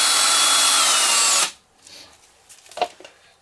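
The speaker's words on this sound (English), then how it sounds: "By using a drill, I'm not as concerned about my time as if I were using a stick." Power drill whirring at steady speed while mixing casting resin, loud and close for about a second and a half before stopping, followed by a few faint clicks and handling knocks.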